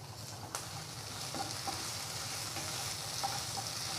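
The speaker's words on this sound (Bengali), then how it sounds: "তো সবজিগুলো প্রায় ভাজা হয়েই গিয়েছে।" Mixed vegetables for sambar fry in a pan with a soft, continuous sizzle. Occasional light clicks of stirring sound faint and close, with no talking.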